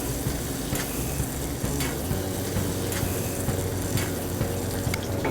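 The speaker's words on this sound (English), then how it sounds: "So we'll do this, and then we'll baste the fish." Fish fillet frying in a pan while being basted with butter: a steady, dense sizzle with spooning and stirring clatter running close and fairly loud throughout.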